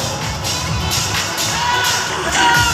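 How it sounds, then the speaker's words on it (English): A basketball arena crowd of fans roars and cheers at a PBA Commissioners Cup championship celebration, a loud, continuous wash of shouting and applause with no break, filling the space from all around. "A round of applause, ladies and gentlemen."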